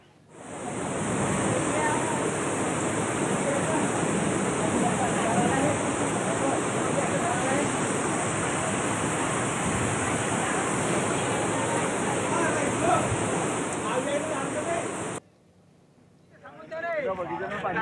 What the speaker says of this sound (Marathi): पुराचं पाणी खिरवड नेहते रस्त्यावरच्या पुलावरून वाहू लागलंय